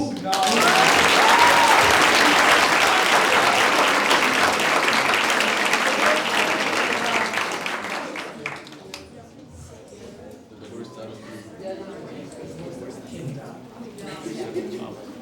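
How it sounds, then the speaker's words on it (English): Dense audience applause rings out at the closing ceremony of a Model United Nations conference. The clapping is loud and sustained for about eight seconds, then fades out into murmuring and soft talk. "But we could still give a round of applause for Yanis Lonis."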